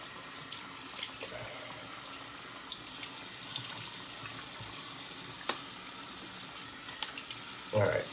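Tap water runs steadily from a faucet into a sink while a shaving brush is rinsed, a soft continuous splashing with a few brief knocks and a louder burst near the end.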